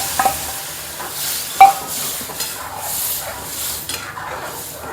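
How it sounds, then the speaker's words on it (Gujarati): Boiled val beans go into a hot tempering with turmeric, setting off a crackling sizzle, followed by clattering stirs and scraping in the pot that come in irregular bursts. "આ સ્ટેજ ઉપર આપણે વાલ નાખી દઈશું અંદર."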